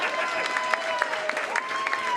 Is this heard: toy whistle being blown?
no